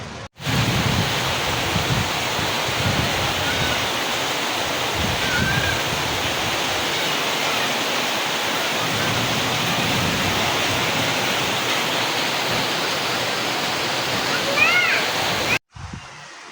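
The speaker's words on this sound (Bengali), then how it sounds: "ওই বৃষ্টি নেমে গেছে" Heavy rain pours down in a steady, dense hiss that barely changes throughout, with muffled voices faintly underneath before it cuts off abruptly.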